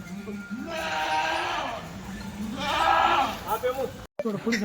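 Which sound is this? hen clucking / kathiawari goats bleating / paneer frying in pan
kathiawari goats bleating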